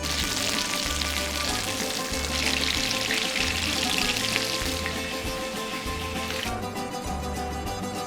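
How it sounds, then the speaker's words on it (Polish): Breaded cod pieces, coated in flour, egg and breadcrumbs, fry in strongly heated oil with a steady, loud, close sizzle and crackle that runs unbroken throughout. "Smażyć na złocisto na mocno rozgrzanym oleju."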